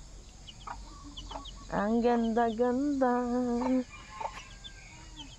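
A rooster crows once in a long, strained call, with soft clucking before and after, nearby, and a brief spoken remark.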